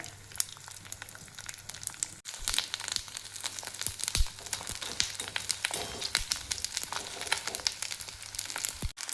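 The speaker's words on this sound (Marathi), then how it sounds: "तेल जास्तच टाकायचं आहे, तळायचं आहे त्यासाठी. छान असा तळून घ्यायचा आहे." Edible gum (dink) frying in plenty of oil crackles and pops in dense bursts, with a busy, close crackle running throughout.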